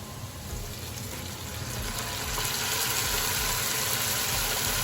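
Sherry poured into a hot pan of browned chicken hits the metal with a loud, steady sizzling hiss that swells and holds for several seconds.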